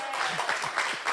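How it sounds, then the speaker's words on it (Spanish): An audience claps through a church or religious gathering, a brief burst of scattered applause filling the room at moderate loudness with no talk over it. "Démosle un aplauso a Roberto."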